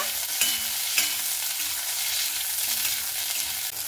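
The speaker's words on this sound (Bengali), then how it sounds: "এবার আমি বেগুনগুলোকে কিন্তু ভেজে নেব" Eggplant pieces fry in a pan of hot oil with a dense, steady sizzle, broken by two short stir clatters near the start.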